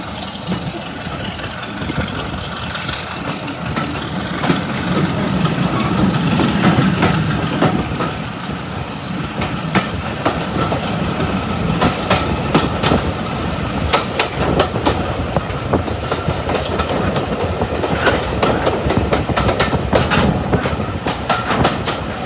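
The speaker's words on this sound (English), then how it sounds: "we then depart on the service towards Swanage" Diesel-hauled heritage train on the Swanage Railway pulling away during a diesel gala, with steady rolling rumble and clickety-clack of wheels over rail joints building through the run, plus sharp intermittent clanks and squeals near the end.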